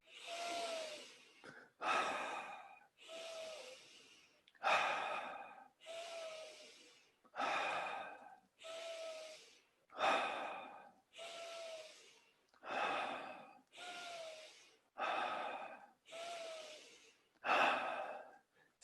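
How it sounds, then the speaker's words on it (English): Slow, deep breathing up close: roughly a dozen long, airy inhalations, each followed by an easy exhale, in a steady unhurried rhythm with no talking. "10 deep breaths. Go for it."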